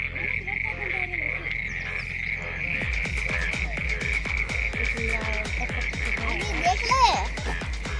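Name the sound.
frogs croaking in a flooded pond, called crocodile by speaker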